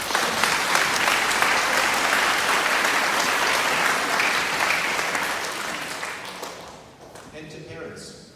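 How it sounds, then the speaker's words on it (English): New Year 7 students and parents at Sydney Technical High School clap in a loud, dense round of applause that fades out toward the end, with faint voices emerging as it dies away. "Go on, give yourselves a round of applause."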